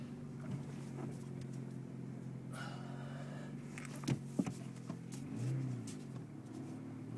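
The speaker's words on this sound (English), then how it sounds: "makes a weird grumbling noise, shifting gears" A 1997 VW Golf mk3 accelerating in a forward gear, a low, steady engine drone with an uneven grumbling rumble underneath and a couple of faint knocks partway through, heard from inside the car.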